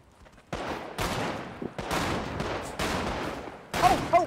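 Two players open fire in a GTA 5 roleplay game, sending loud repeated bursts of gunshots in several volleys over about four seconds, close and sharp, with a quiet lull just before the shooting starts.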